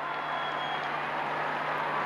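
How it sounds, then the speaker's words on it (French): Steady broadband applause and crowd murmur from a large gathering in St. Peter's Square, continuous and fairly distant, with no distinct voices standing out. "des applaudissements"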